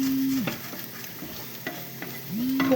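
Glass noodles with chili, garlic and spring onion are stirred in a sizzling pan, with steady frying crackle and a few scraping stirs; a brief tonal hum starts and ends it.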